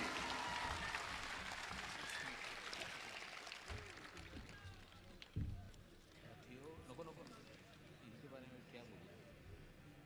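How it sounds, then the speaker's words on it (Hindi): Audience applause welcomes a speaker at a public gathering: a steady, fairly faint wash of clapping that fills the room, with a sharp knock partway through, and a voice speaking over it. "पुरजोर तालियों से इनका इस्तकबाल कीजिए"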